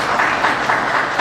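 An audience applauding at the end of a spiritual lecture, a steady wash of many hands clapping close by for the whole moment, no speech over it.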